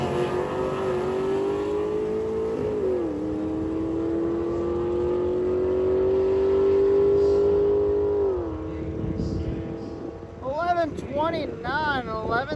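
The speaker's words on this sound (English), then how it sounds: "this is a supercharged LS because I thought it was a turbo" A supercharged LS-powered car accelerates hard down a drag strip, its loud engine note rising steadily through long pulls with brief shift dips, then fading as talk and crowd chatter take over near the end.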